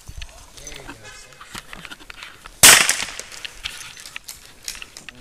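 A single sharp report from an LCR revolver cracks out loud and close partway through, with quiet talk and handling noise before and after.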